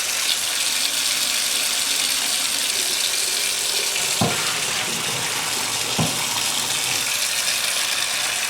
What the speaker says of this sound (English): go drain my noodles. I'll run some cold water.